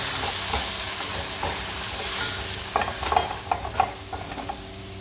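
An egg frying in a pan for a home breakfast, a constant bright sizzle that swells midway, then a run of sharp crackles and pops near the end, close and unaccompanied by speech.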